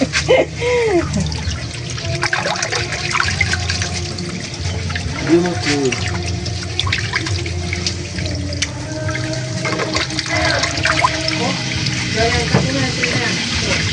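Water running steadily from a kitchen faucet into a sink, a continuous splashing rush lasting throughout, loud and close, with occasional faint background voices.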